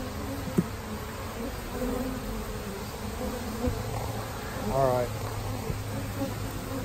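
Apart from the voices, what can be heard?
honeybees buzzing around an opened swarm trap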